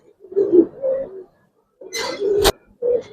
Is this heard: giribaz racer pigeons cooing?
yes